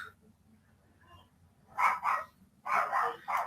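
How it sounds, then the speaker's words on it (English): Several dogs barking in bursts, a pair of loud barks followed by a longer run of barking, fairly close, with a faint low hum underneath and no talk. "dogs are going crazy"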